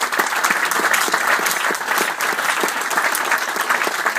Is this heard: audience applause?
yes